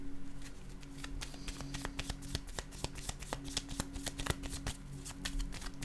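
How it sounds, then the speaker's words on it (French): Playing cards being handled and laid down, a close run of crisp flicking and slapping taps in quick irregular bursts over a quiet background. "Je vais déposer une carte pour celle-ci."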